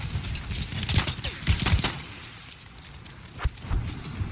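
Gunfire in Battlefield 1 multiplayer on PC, set in a forest, with several sharp shots at scattered moments over a steady background of battle noise.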